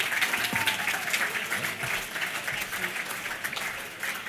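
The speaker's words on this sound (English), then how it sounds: "a round of applause as Sam makes her way to the stage" An audience at an AFL women's football awards night applauds steadily as a guest walks to the stage, a dense sustained clapping throughout.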